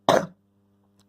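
A single short cough, loud and close, from a person with a cold, followed by near silence with a faint steady hum.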